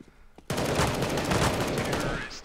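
Galil rifle gunfire from CS:GO bursts in after a brief quiet start, a rapid, loud stream of automatic shots that continues to the end.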